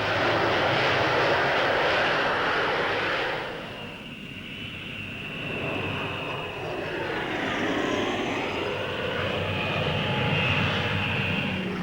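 An Avro Vulcan bomber flies over the Farnborough airshow, its engines a loud, sustained roar that dips briefly and then swells again as the aircraft passes.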